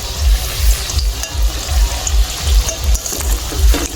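Mustard flower fritters bubble in hot oil, a loud close sputtering fry over a pulsing low rumble, with a few light clinks as the pieces are turned.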